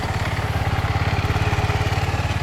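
A scooter engine running after a drive belt change, a steady rhythmic low putter with a fast regular pulse, close and alone, holding an even idle throughout.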